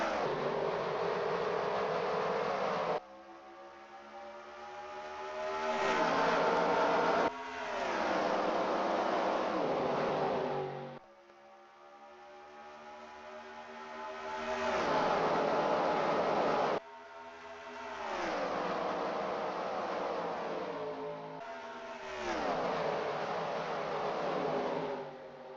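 Race cars roar off at the start of a stock car race at Texas, a loud, dense engine drone that surges and drops in repeated waves as the pack passes and recedes.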